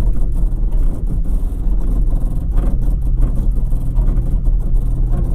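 A 2022 Toyota Tacoma TRD Pro creeping off-road in crawl control, a steady low engine rumble and drivetrain whir with a faint rising note, close and continuous without talk.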